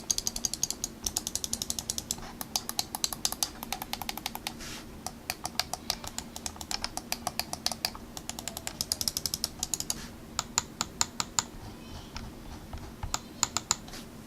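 Rapid clicks from a Corsair Ironclaw RGB gaming mouse with Omron switches, dozens of crisp, close taps in quick runs and short pauses, heard alone without talk.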